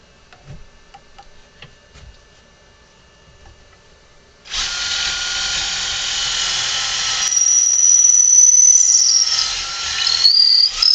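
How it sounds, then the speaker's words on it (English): Power drill boring a hole in wood while building a ventriloquist dummy, starting after quiet handling clicks, then a loud sustained whine that rises in pitch and squeals as the bit works through. "Got the hole drilled here."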